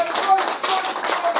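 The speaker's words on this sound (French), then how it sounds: "on peut l'applaudir" Applause from an audience at a community celebration in Verviers, Belgium, a steady dense patter of clapping that swells and dips over a brief stretch, with no voices standing out.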